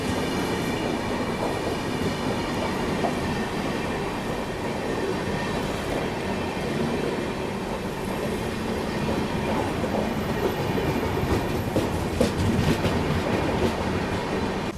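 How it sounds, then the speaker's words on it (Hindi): North East Express from Kamakhya to Anand Vihar rolling past, a loud, steady rumble of carriages with rhythmic wheel clatter and faint squeal throughout, no voices. "North east express Kamakhya Anand Vihar."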